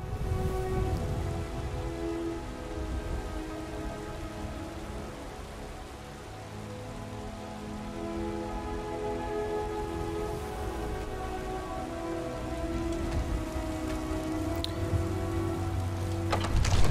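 Storm rain in Skyrim near Dragonsreach, a steady hiss of falling rain over low rumbling ambience, continuous and fairly loud, building slightly toward the end with no talk.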